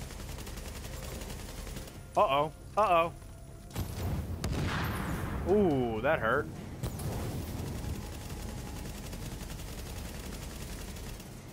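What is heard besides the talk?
gunfire in The Division video game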